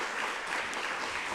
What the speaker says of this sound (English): can you please applaud her